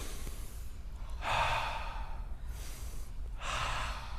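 Two slow, deep breaths during a morning breathing exercise, each a long inhale through the nose followed by an exhale through the mouth, close and fairly loud with a quiet pause between them and no talking.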